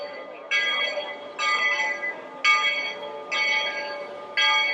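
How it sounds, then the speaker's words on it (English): A train pulls up at the Magic Kingdom entrance on a decorated autumn day, five repeated bright bell-like ringing bursts at steady intervals over low rumbling background, fairly near and moderately loud, with no talking. "I can hear the train coming"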